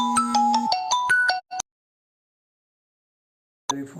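A phone ringtone plays a bright, quick electronic melody of stepped notes for about a second and a half, then cuts off; after a silent gap a short burst of another tone begins.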